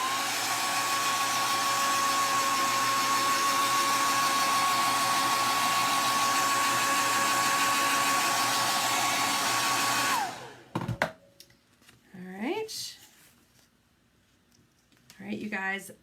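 A hair dryer blows steadily and loudly while drying chalk paste on a home decor piece, then cuts off, leaving short handling noises and brief talk.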